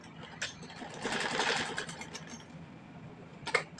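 A sewing machine stitches the sleeve of a simple kurti, a steady close whirring run that swells in the middle and then eases off, with brief lighter bursts at the start and end.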